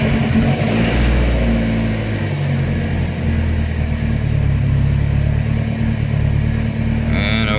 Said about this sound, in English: so time to crank the car up